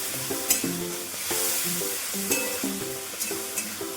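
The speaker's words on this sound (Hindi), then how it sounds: "थोड़ी देर अच्छे से मसाले को भूनने दे रहे हैं" Masala spices seasoned with salt fry in a pan while being stirred, a steady close sizzle with a few sharp scrapes of the spoon, set against soft background music.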